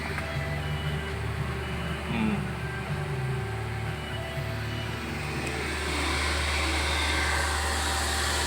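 A 2010 Nissan Livina automatic engine held at a steady 2000 RPM, a continuous low hum with a faint high whine that stays even throughout, with some background talk.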